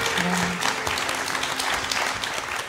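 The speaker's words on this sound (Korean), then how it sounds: "기적 같은 소식 기대하면서 박수 보내주시고요." Studio audience at a KBS television program on searching for families of overseas adoptees claps steadily, dense and sustained applause filling the room throughout.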